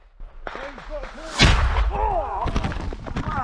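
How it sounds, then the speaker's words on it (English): Automatic grenade launcher fire during a Ukraine war village assault, one heavy blast followed by rough rumbling impacts, with excited voices and shouting over it. "followed by accurate indirect fire from an automatic grenade launcher"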